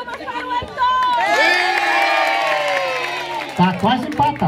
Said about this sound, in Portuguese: Palmas para o Heitor!